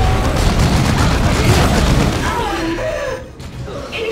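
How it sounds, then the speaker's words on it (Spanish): Orbital bombardment explosions in Warhammer 40k Dawn of War 2, a dense run of loud booming blasts and rumbling impacts that thins out toward the end, with faint voices mixed underneath. "Le tiro un bombardeo orbital desde aquí."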